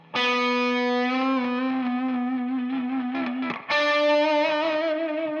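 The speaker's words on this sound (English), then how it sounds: "he's also using a lot of vibrato" A distorted electric blues guitar holds two long sustained notes with a heavy, wide, metal-style vibrato wavering the pitch, separated by a brief break.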